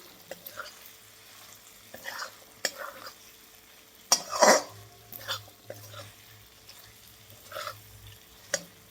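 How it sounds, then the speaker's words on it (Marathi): Peanut powder being stirred into drumstick pods frying in a pan, with soft intermittent scrapes and a quiet sizzle, plus an occasional faint cough-like sound. "आता मिक्स करूया बघा शेंगदाण्याचं कूट."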